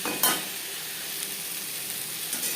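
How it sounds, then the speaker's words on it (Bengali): Eggplant pieces fry in a pan with salt and turmeric, a steady bright sizzle throughout with a sharp stir or clatter near the start and a softer one near the end, no voices. "লবণ হলুদ দিয়ে চার পাঁচ মিনিট বেগুন ভেজে নেব"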